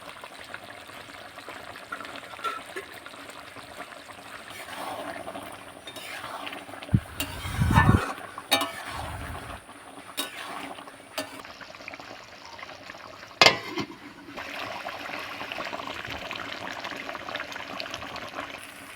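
Tel potol, a pointed gourd curry thickened with cashew and poppy seed paste, simmers and sizzles softly in a pan while it is stirred, with a brief louder scrape of the spoon partway through.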